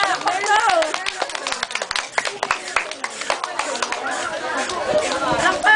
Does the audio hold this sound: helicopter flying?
no